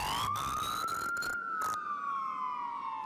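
An ambulance siren wails, sweeping slowly up and down, loud and close, with a few brief broadband bursts cutting through early on.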